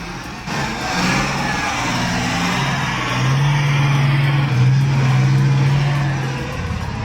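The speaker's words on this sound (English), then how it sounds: "it's packing a 44 horsepower turbocharged Kubota D1505 engine. This thing's a real powerhouse. It doesn't just roar, it works hard." Wood Forest Master Turbo firewood processor with a 44 horsepower turbocharged Kubota D1505 diesel engine, a steady loud engine drone that holds and swells slightly, with a low mechanical hum throughout.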